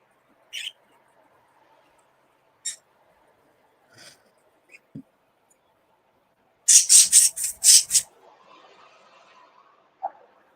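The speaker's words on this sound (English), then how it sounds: "the birds are noisy today." Birds call outdoors in scattered short chirps and squeaks spread across several seconds, followed by a quick loud burst of five or six rapid calls. Quiet stretches fall between them.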